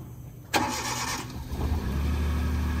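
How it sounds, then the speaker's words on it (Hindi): A small car's engine cranks and fires on the first try in -15 to -16 degree cold at high altitude, a sudden start that settles into a steady, close idle. "फाइनली हम लोग चेक करने जा रहे हैं गाड़ी एक बार में ऑन होती कि नहीं, -16 -15 degrees में."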